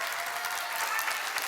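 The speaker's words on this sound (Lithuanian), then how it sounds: "Labai liūdni plojimai." Thin applause from a small group of online quiz players, a steady patter of scattered claps that stays fairly faint and even throughout, with no talking over it.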